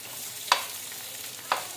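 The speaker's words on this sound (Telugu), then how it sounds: "కొంచెం ఈ పచ్చిమిరపకాయ వేగిన తర్వాత స్టవ్ బంద్ చేసుకుని కారం చల్లుకుంటే ఎంతో రుచిగా ఫిష్ ఫ్రై రెడీ" Green chillies fry alongside fish fry in a pan, a quiet steady sizzle broken by two brief, sharp stirring scrapes about a second apart.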